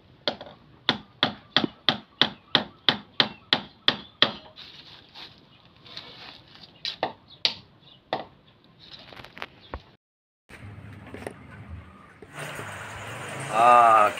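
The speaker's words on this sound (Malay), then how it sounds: "kerja paku memaku hampir siap, sudah hampir siap" Nails being hammered into wood on an outdoor build, a run of about a dozen sharp, evenly spaced close blows, then scattered knocks and handling noise, ending in louder background sound.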